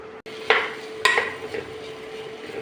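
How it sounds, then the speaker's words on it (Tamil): Ginger garlic paste and spices being sautéed in a pan for beetroot biryani, a few sharp stirring scrapes over a low steady sizzle, close and with no speech. "எல்லாத்தையும் என்ன ஒன்றா போட்டு வதக்க வேண்டியது"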